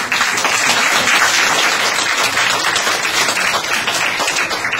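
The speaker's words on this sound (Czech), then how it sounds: "A já předpokládám, že tento váš potlesk je zároveň také gratulací k jejím narozeninám." A crowd at a book launch in Czechia claps loudly and continuously, a dense, even wash of applause with no voices heard.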